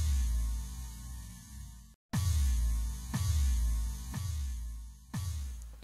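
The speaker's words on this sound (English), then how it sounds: "we have this bass drop sample, which sounds like this." Dubstep bass drop sample: deep booming sub-bass hits repeating roughly once a second after a brief cutout, each with a thick low tail under a noisy, gritty wash, loud and alone.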